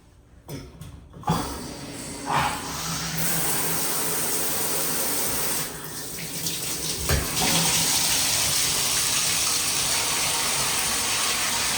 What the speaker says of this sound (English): It looks like it's getting full pressure out the faucet